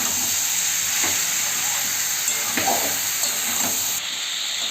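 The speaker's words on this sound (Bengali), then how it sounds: "সুন্দর করে সবজির সঙ্গে মশলাটাকে কষিয়ে নেব।" Mixed vegetables frying with cumin powder and spices in a pan, giving a steady close sizzle and hiss with occasional soft stirring scrapes throughout.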